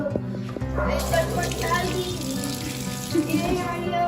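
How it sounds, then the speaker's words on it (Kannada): Water being poured into a frying pan and a mixer jar while cooking paneer butter masala, a steady splashing run under the voices of people talking close by. "ಬಾಣ್ಲೆಗೆ ನೀರು, ಮಿಕ್ಸಿಗೆ ನೀರು, ಎಲ್ಲದಕ್ಕೂ ನೀರೇ ಹಾಕೋಣ"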